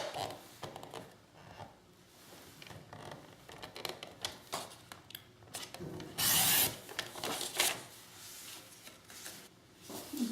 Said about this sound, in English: We are going to cut it diagonally.